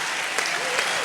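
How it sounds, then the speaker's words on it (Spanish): Dense applause from a youth forum crowd at a church camp event, a short steady burst of many hands clapping together. "Un aplauso."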